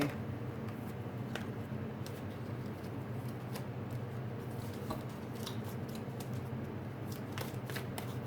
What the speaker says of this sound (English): So let's pull a card now on Hades.